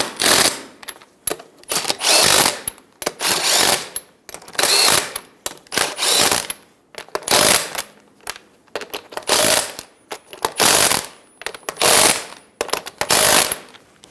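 Impact wrench snugging lug nuts onto a 2010-2014 Subaru Outback rear wheel during a brake job: a series of about ten loud, close bursts of rattling hammering, each roughly half a second long, separated by brief pauses.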